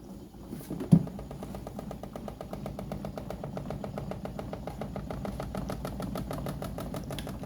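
Sharp twin-tub washing machine motor spinning fast during a repair test, a steady close mechanical hum with a rapid rhythmic whir and a brief knock near the start.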